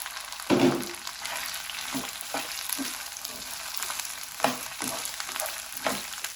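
Okra (bhindi) frying in hot oil in a kadai sizzles steadily up close, broken by a louder burst at the start and several scraping stirs at irregular intervals.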